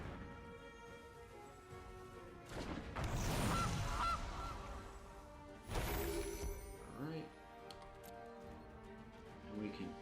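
In MTG Arena, playing the Gilded Goose card sets off a goose honk, a burst of honking squawks amid card-game effects and background music, with someone speaking.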